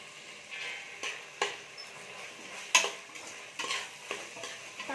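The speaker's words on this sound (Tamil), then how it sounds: "தக்காளி ஆட் பண்ணி இந்த மாதிரி நல்லா வதக்கி விட்டுக்கோங்க." Tomatoes for egg biryani sautéing in a pan, with a faint steady sizzle broken by sharp spoon clicks and scrapes against the pot at irregular intervals, close but quiet, no voices.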